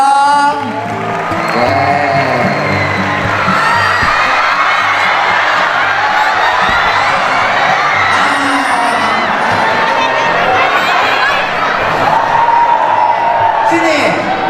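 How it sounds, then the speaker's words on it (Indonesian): A crowd of young students at an Islamic boarding school camp claps and cheers loudly and steadily, with whoops and children's shouts mixed into the dense, continuous applause. "Tepuk tangan dong."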